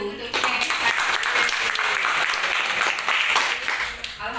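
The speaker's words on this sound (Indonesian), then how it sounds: "Tepuk tangan dulu untuk kita." A school audience breaks into loud, sustained applause that holds steady throughout, dense clapping with voices blended underneath.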